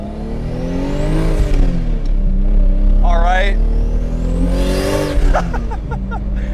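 A single-turbo 2JZ engine in a Lexus IS300 with an open wastegate revs up loudly twice, with a whooshing, fluttering release as the revs drop; a voice speaks briefly.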